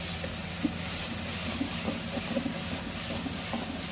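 Veg Manchurian frying on high flame in a pan, a steady dense sizzle and hiss with small crackles and pops scattered throughout, continuous and fairly loud.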